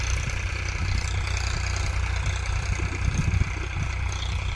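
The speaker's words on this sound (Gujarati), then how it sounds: "તો ત્યાં ચાલે છે ટ્રેક્ટર." A tractor ploughs in a neighbouring farm field, a steady low engine rumble with a throbbing idle-like rhythm at moderate distance, heard alone.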